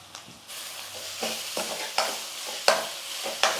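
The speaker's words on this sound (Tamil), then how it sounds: "1 நிமிஷத்துக்கு நல்லா வதங்கட்டும்." A spoon stirs potato masala as it sautés in a hot pan, giving repeated close scraping strokes at a steady rhythm over a soft sizzle, with no voices.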